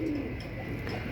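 A pigeon coos close by in a soft, low murmuring call that runs unbroken for about a second, with no talk.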